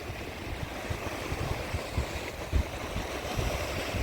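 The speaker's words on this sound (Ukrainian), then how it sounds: "Поки ще не стемніло, підійшли глянути ще до моря. А воно сьогодні таке бурхливе, хвилюється." Rough, stormy sea surf breaking on the shore at Side, Turkey, on a November evening: a steady broadband wash with a few heavier wave thumps, heard alone without talk.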